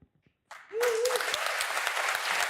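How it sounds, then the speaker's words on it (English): Applause from a conference audience in Paris rises abruptly and holds as dense, steady clapping filling the hall, preceded by a short voice tone. "The clapping, so that's something"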